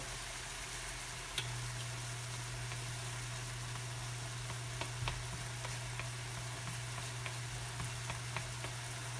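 Eggs fry gently in a pan for pad thai, giving a soft, continuous sizzle with a few faint ticks and pops over a low steady hum, with no voices.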